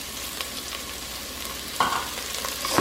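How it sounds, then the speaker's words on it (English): Minced garlic and frozen green peas cook in a pot on medium heat for chicken and vegetable noodle soup, giving a steady close sizzle with a brief scrape of stirring partway through. "I've cooked the garlic and the green peas for about a minute."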